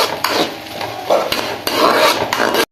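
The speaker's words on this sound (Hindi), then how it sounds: "अब हम इसमें 2 मीडियम साइज के प्याज डाल देंगे" Two medium onions tipped into hot ghee in a kadai for aloo anda, giving a loud, steady sizzle with scraping stirring and a few sharp clatters of utensil against the pan, then an abrupt stop.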